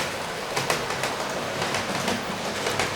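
A Hornby TT-scale Tornado model steam locomotive running on track, a steady close whirring and rattling hum with light rhythmic clicks, continuous and alone.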